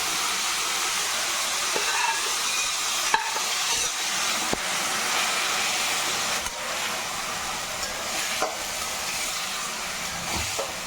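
Cooked tapioca fries in a pan with a continuous broad sizzle, punctuated by sharp clicks and scrapes of a spoon stirring against the metal every few seconds, steady and close with no voices.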